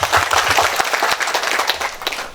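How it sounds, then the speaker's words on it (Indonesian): A crowd claps for the Bupati at a formal Kupang regency gathering, a lively burst of dense applause with individual hand claps audible, holding steady and then tapering slightly. "Tepuk tangan buat Pak Bupati dulu."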